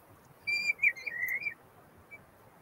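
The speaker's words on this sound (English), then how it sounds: "that's an interesting bird out in the Hessdalen hillside." A bird calls out on the Hessdalen valley hillside: one warbling, whistle-like call lasting about a second, clear against a faint, steady background hiss.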